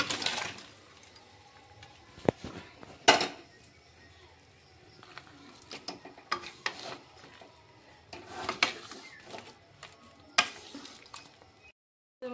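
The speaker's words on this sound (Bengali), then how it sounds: "আমি একটি বড় কড়াই বসিয়ে নিচ্ছি। তাতে মাংসগুলি ঢেলে দিচ্ছি।" Chicken pieces poured into a large kadai and then fried and stirred, giving scraping stir strokes, splashes and a low sizzle in irregular bursts, close by, with someone talking at times.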